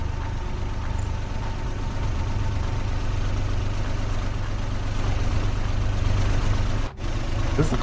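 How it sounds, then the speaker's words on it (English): A car engine idles steadily in a video game set on a street at night in Japan, a low continuous rumble that holds throughout, with a brief dip near the end. "Is this the car that I've been hearing this whole time?"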